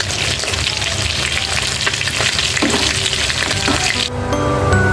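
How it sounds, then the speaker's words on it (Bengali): Dried chillies fry in hot hilsa fish oil, producing a loud, dense, continuous sizzle with some light stirring scrapes, close by and unbroken by talk. "কয়েকটা শুকনো মরিচও ভেজে নিচ্ছি এর সাথে"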